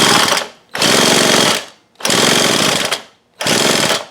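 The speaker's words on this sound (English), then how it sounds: "we're going to spin the engine with the drill and see if it flashes" A power drill whirs loudly in three long bursts with short pauses between, spinning the small engine of a Homelite leaf blower that churns with a rapid mechanical chatter.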